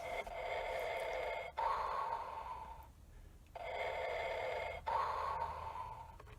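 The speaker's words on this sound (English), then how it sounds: "Gives me that deep underwater breathing kind of sound to it." Slow, deep, mechanical breathing, two long inhale-exhale cycles with a hollow, filtered, respirator-like tone.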